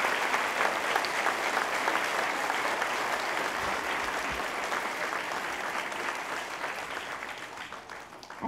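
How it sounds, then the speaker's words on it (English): Veterans Day audience at Joshua Eaton gives a sustained, even round of applause for veterans, dense clapping from a large crowd that slowly tapers toward the end. "please give a respectful round of applause for our veterans here today"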